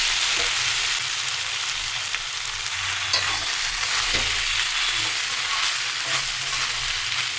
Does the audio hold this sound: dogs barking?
no